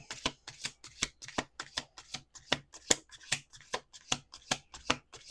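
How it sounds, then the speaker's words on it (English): Tarot cards are shuffled in a quick, regular series of crisp riffling bursts, close by and fairly quiet, with no voices. "Okay, one more shuffle."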